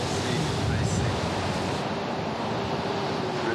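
Ocean surf at Bondi Beach, a steady broadband roar of heavy waves over a strong rip current, loud and continuous with wind noise and no distinct breaks.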